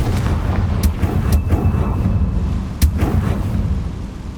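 A Confringo blast in Hogwarts Legacy: loud booming explosions with sharp cracks, one near the start, another mid-clip and a strong hit toward the end, over a rumbling game background.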